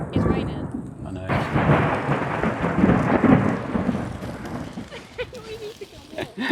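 Heavy rain falling at a holiday park fishing lake, a dense steady patter with deep rumbling beneath, after a brief quieter start, while a person speaks over part of it.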